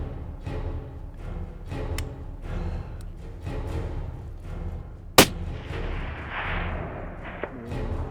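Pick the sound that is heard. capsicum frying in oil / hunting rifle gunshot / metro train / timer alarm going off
hunting rifle gunshot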